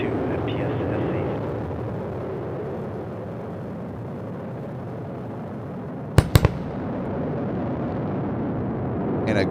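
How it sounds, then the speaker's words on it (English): A SpaceX Falcon 9 booster landing at the landing zone sends a sharp double sonic boom, two quick cracks over a steady background rumble, followed by a faint third thump near the end. "And a great sonic boom."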